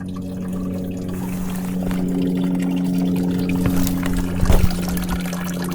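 Water flowing in a creek makes a continuous, close rushing trickle over a low steady hum, swelling briefly near the end, with no speech.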